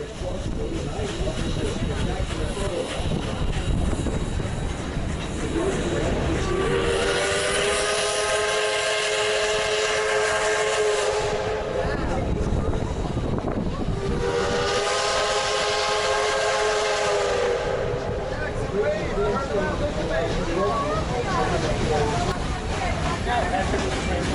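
Riding aboard a train just behind the locomotive near the Lehigh River, a constant loud rumble of wheels and rails fills the ride, with two long, sustained steam-style whistle blasts sounding in succession.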